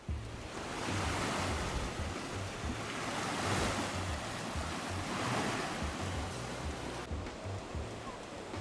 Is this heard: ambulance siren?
no